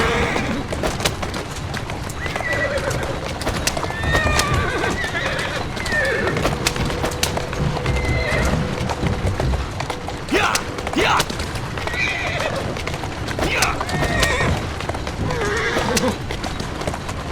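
A horse in a Victorian London action game whinnies several times over steady clip-clopping hooves and cart rumble, with brief voices talking in between.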